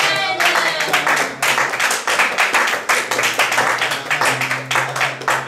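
A church congregation clapping together in steady rhythmic beats to acclaim the Lord, loud and sustained, with a voice and sung tones underneath.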